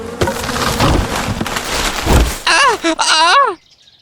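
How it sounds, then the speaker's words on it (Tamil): A story sound effect of bees buzzing and stinging as a monkey grabs a honeycomb: a loud, noisy rush and thuds, then a series of wavering, whining buzzes before it cuts to silence. "அந்த கூடை எடுக்க முயலும் பொழுதுதான் தேனீக்கள் குத்த தொடங்கியது."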